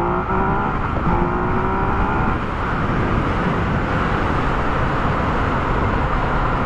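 A Yamaha XSR 900 motorcycle on the road, its engine droning steadily under load with a faint rising whine early on, mixed with constant wind rush, close and loud, with no talk.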